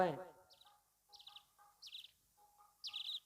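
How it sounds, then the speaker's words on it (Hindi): Small bird chirps in a folk story performance: a voice ends at the start, then four short bright chirp bursts repeat at steady intervals over a faint low whistle-like tone, close and clear. "धर्मराज बाबा चिड़िया के रूप में राजा के बगल में जाकर चहचहावे लागे छे।"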